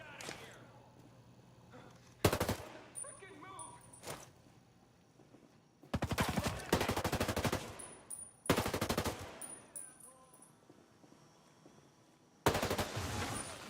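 Rapid automatic gunfire from a weapon in Ghost Recon Breakpoint, fired in several loud bursts of quick shots separated by short quieter gaps with faint background game sound.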